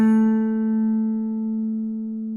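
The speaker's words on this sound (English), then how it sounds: "that almost sounds like an amplifier feeding back" A Santa Cruz PW acoustic guitar with an Adirondack top and mahogany body rings out in one sustained note, its harmonics humming steadily like amplifier feedback and fading only slightly, close and alone.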